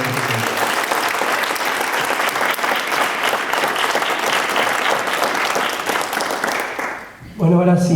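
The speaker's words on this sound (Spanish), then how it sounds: "yo les voy a pedir un fuerte aplauso en memoria de estas dos personas" Sustained audience applause honoring two people at a Spanish-language talk on disability, steady and loud for about seven seconds before fading, followed by a brief burst of speech.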